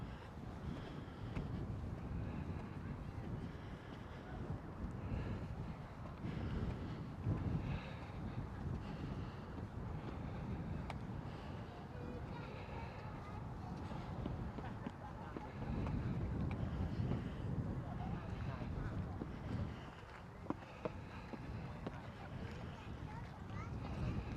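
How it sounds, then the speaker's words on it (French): Wind buffets the microphone in continuous gusts outdoors in Morioka, Japan, a low rumbling roar that swells and eases throughout, with a voice faintly heard underneath. "Alors un petit peu de vent évidemment"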